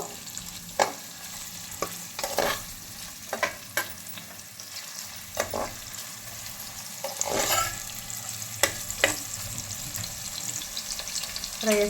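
Onions fry in a pan for ghee rice, with a low sizzle under repeated sharp spatula knocks and scrapes at an uneven rhythm, close by.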